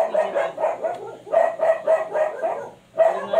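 Several dogs bark in quick repeated bursts, fairly close and loud, in clusters with short pauses between them, alone without speech.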